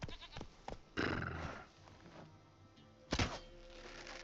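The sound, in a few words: goat bleating in a video game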